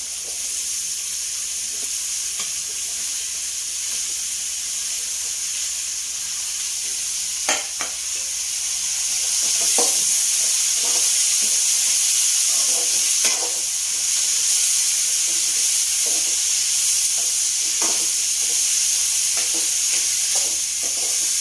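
Ridge gourd pieces sizzling in a pan with curry leaves, a steady high frying hiss with scattered clatters of stirring, growing slightly louder partway through.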